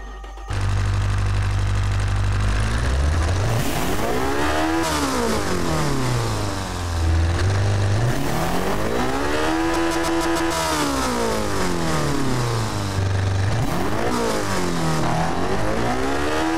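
A sports car engine in a video game revs up and down repeatedly, rising to a high whine and dropping back in long sweeping cycles, loud and unbroken.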